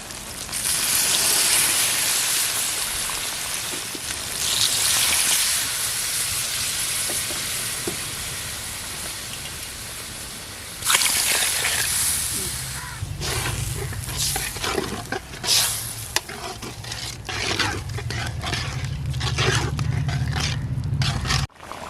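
Fish curry (meen kulambu) cooks in a pot with a steady sizzling, bubbling hiss. Scraping and stirring knocks come in partway through, and the sound stays loud and close throughout.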